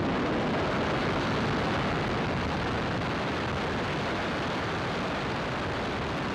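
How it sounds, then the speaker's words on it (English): A SpaceX Falcon 9 rocket carrying Starlink satellites lifts off, a dense, steady roar of broadband noise held at constant loudness throughout, heard from a distance. "ignition, and liftoff."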